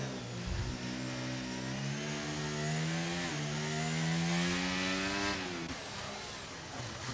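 Red Bull Formula 1 car at the Singapore race, its engine note rising through the gears as it passes, a buzzing howl with clear pitch climbs and a shift, fairly faint and distant.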